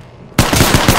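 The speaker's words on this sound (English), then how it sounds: "Opening fire." Automatic weapon fire in the Apex Legends video game: after a brief quiet lead-in, a loud, rapid burst of shots erupts, each round distinct in a fast, even rhythm.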